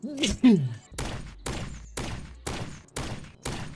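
Shotgun blasts with updated sound effects in a survival video game, five loud evenly spaced shots about half a second apart, preceded by a brief voice.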